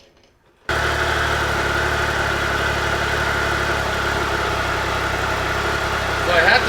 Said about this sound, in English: So I had to start the bike